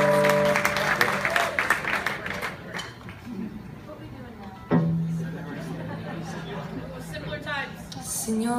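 A concert crowd at a show in Washington, D.C. applauds in a fairly loud burst that fades within a few seconds, giving way to someone talking over a low hum and scattered crowd noise.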